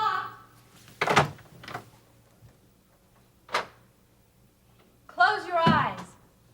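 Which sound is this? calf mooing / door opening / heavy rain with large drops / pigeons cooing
door opening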